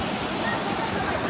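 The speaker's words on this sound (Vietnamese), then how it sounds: "nghe tiếng suối chảy nhâm nhi ly rượu quá tuyệt vời" A mountain stream flows at night, its steady, dense rushing filling the scene loudly and evenly, close by, with no pauses or other sounds standing out.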